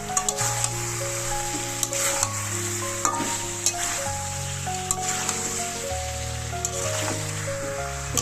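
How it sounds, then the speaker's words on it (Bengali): Spices and ginger garlic paste sizzle steadily in a pan for a chicken dish, a continuous close frying hiss with occasional stirring clicks, all under background music. "মশলাগুলো দিয়ে আমি খুব ভালো করে কষিয়ে নিয়েছি। এবার দেবো আদা রসুন।"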